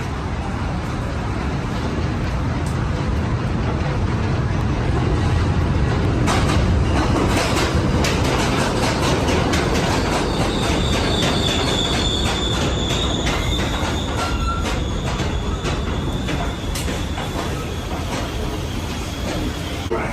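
A subway train pulls into Parkchester station with a loud, continuous rumble of cars and wheels, metallic screeching rising midway, and clattering rail noise throughout.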